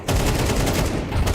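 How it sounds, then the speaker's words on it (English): Rapid bursts of gunfire from a Counter-Strike 2 collegiate esports match, dense overlapping shots sounding close and loud with no talk over them. "There's some gunshots out connector here."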